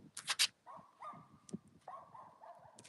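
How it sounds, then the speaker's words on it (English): A dog barks twice in quick succession nearby, then gives a few whimpers and yips at moderate volume in a home setting, with no talk over it. "Fucking dog."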